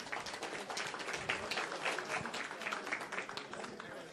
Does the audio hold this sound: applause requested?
yes